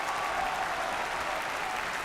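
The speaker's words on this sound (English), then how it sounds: "Big round of applause wherever you are" Applause welcoming Minnesota Secretary of State Steve Simon as a guest, a brief, steady wash of dense clapping at moderate volume with no break.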